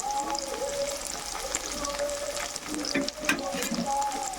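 Chopped tomatoes fry in a pan with a soft, fairly quiet sizzle and light spattering, plus an occasional scrape of stirring.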